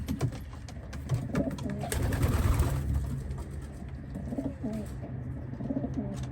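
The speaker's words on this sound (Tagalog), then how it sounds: "Ito yung mga dati nating ibon." Pigeons coo repeatedly in low, soft, throaty murmurs, several birds close by, with a brief rustle of movement partway through.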